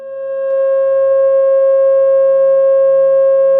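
A steady pure sine tone at 540 Hz, sounded for a pentagon shape in a frequency-and-geometry demonstration, rises in over the first half second and then holds loud and unbroken throughout.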